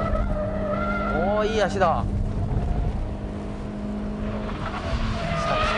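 A Toyota engine revs hard toward 8000 rpm while driving, with tires skidding and squealing at high speed; someone talks over the loud, steady engine drone.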